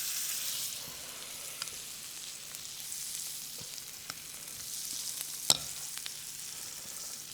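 A black bean burger patty fries in oil, giving a soft continuous sizzle with a few faint pops and crackles, quiet and steady throughout, and nobody speaks.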